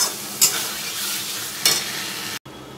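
Prawns with ghee sizzling in a pan, a close, loud hiss broken by two sharp scraping strokes of a stirring utensil. The sound cuts out briefly near the end, then the sizzle resumes.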